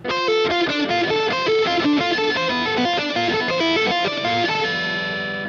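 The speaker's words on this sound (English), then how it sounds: "All that open string crap ringing out where our fingers just come off and it sounds out the note" Heavily distorted electric guitar plays a rapid sweep-picked run of notes, leaving open strings ringing and buzzing underneath before one note sustains at the end.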